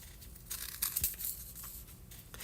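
Paper pieces being cut by hand for craft tags, with a few quick rustling snips and crinkles close by, one sharper cut standing out midway, over a steady faint room hiss.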